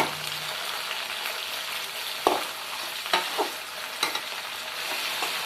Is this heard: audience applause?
no